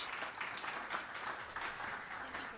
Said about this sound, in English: can we all give a round of applause and thank Carrie, and Mike for this?